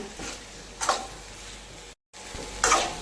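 Cluster beans poriyal tossed with ground spice powder in a pan, soft sizzling under a few quiet scraping stirs of a spoon, with a short silent break between them.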